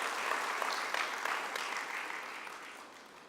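A conference audience applauding startups at a keynote, a dense, even patter of clapping that fades gradually over a few seconds, fairly quiet and without voices.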